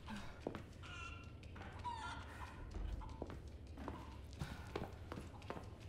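Chicken clucking and crowing in the Resident Evil 4 video game, several short fowl calls and squawks over a steady low game ambience, with soft footsteps in between.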